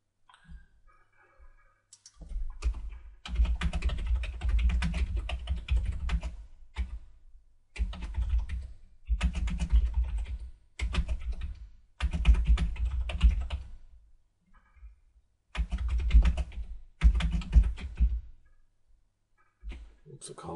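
Typing on a computer keyboard while setting up QlikView security in section access, with bursts of close, rapid key clicks separated by short pauses.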